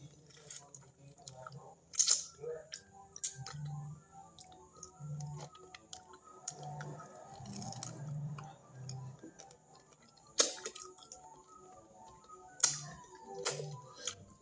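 Someone eating fish moqueca with pirão, heard as quiet, intermittent wet chewing and soft smacking, with occasional sharp clicks of cutlery against a plate between the bites.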